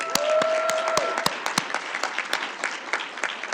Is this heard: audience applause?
yes